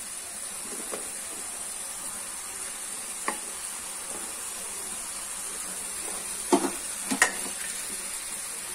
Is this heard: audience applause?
no